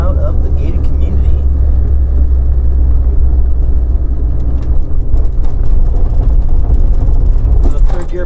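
A 1981 Volkswagen Rabbit Pickup engine pulling through the gears as it drives out of a gated community, a steady loud low drone with road rumble under nearly continuous talk inside the cab.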